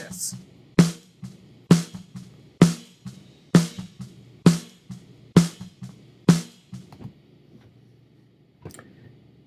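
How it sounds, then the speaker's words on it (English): Sharp snare drum hits played alone, about eight evenly spaced strokes with a crisp attack and short ringing decay, then a pause and one faint final hit. "So again, the snare out of the mix should sound like this."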